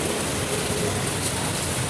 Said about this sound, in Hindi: बहुत तेज़ बारिश आई है